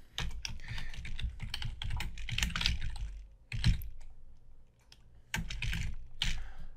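Computer keyboard keys clatter in quick irregular bursts with brief pauses while text is edited in a shared document, close and clear with no voices.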